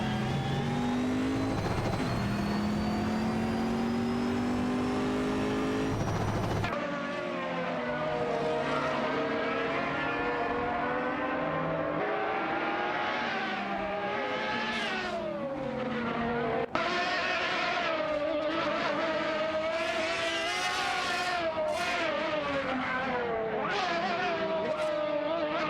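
Race cars in a video game race scream past with rising and falling engine whines, several cars overlapping and revving through shifts, one sharp cut partway through, continuous and fairly loud throughout.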